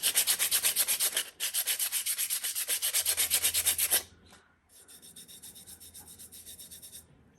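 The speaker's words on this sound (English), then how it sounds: "we're gonna go ahead and sand" A wooden surface is sanded by hand. Rapid, even back-and-forth rasping strokes run loud and close for about four seconds, stop briefly, then continue as softer, lighter scrubbing.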